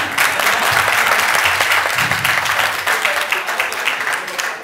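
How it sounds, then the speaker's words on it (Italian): Loud, dense applause from a crowd of staff and guests at an end-of-season party, cheering the volunteers, sustained throughout and close by with faint voices mixed in. "intanto facciamo un applauso ai volontari"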